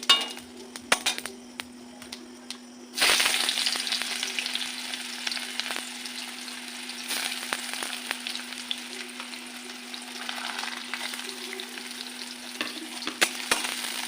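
Chopped onions frying in hot oil over bay leaf, dried red chilli and cumin for egg curry, a loud sizzle bursting in after a few clinks of utensils, then steady crackling with occasional stirring taps.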